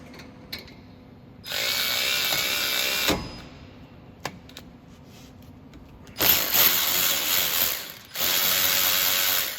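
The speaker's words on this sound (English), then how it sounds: "good little snap on ratcheting tool" A Snap-on ratcheting tool is used during a brake pad and rotor installation, making several loud bursts of rapid mechanical whirring and clicking close up, with short quiet gaps between them.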